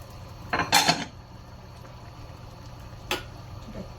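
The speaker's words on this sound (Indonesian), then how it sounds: "Masukkan tempe. Masukkan paru." Tempeh and beef lung drop into a pan of sambal goreng, giving two short clattering bursts near the start and another brief knock later, with a steady low hum underneath and no talking.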